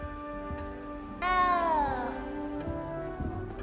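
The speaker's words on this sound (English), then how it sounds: "You don't need to be frightened, little cat." A small cat meows once in Hogwarts Legacy, a single drawn-out, falling cry that comes in loud and close over steady game background music.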